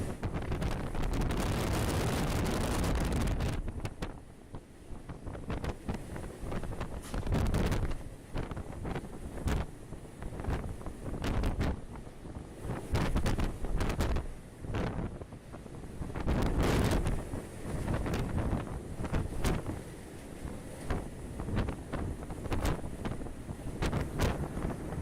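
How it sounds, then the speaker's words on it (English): Violent wind at sea, gusting near 89 miles per hour around a ship amid monster waves, roars across the microphone in heavy rumbling blasts that surge and ease repeatedly, with crashing water beneath. "To make matters worse, winds were traveling at 89 miles per hour."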